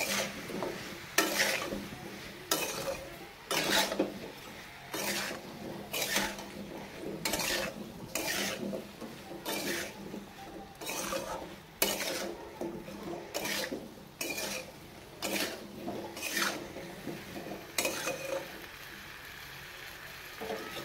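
A spoon scrapes and stirs spices into potatoes in a pan, rhythmic rasping strokes repeating every second or so, close and clear over a faint sizzle.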